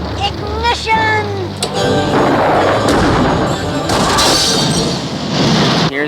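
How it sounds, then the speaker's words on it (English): Cartoon fireworks display: a whistling rising launch, then a run of loud booms and crackling bursts filling the scene, layered with music-like tones, no talk. "Here's a fireworks display we saw."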